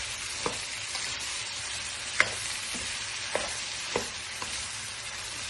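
Eggplant sautés with pork, tomato, garlic and onion in a hot pan, a steady soft sizzle broken by several sharp scrapes and taps of a utensil stirring, close and fairly quiet with no talk.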